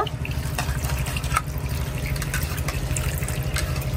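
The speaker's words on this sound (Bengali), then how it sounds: "এখন জল দিয়ে ভালো করে ধুইয়া তারপরে কাইটা নিব" Water runs and splashes steadily over hilsa fish being rinsed by hand, a continuous close trickling wash with small splashy bursts and no speech.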